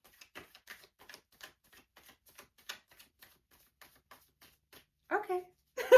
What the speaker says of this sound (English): just one more shuffle, I heard.